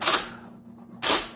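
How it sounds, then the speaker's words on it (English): An IBM Selectric II electric typewriter strikes two sharp keystrokes roughly a second apart, with a faint steady motor hum in the quiet gap between them. "But I'm just gonna type something here."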